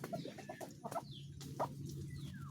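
Chickens cluck softly and repeatedly at close range, with a steady low background hum and no talking.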